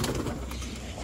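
Stock pigeons coo close by in a short, soft burst against a steady background hum.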